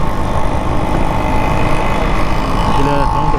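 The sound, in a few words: auto rickshaw engine in traffic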